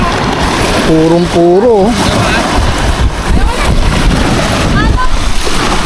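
Rough sea waves at a sandy beach in Coron, a constant windy wash of surf and splashing, with people talking close by.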